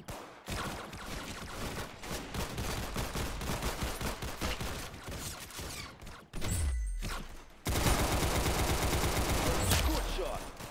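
Rapid gunfire in the Roblox game Arsenal, dense bursts of shots close up that run almost without pause through the clip, with a brief lull before a louder burst.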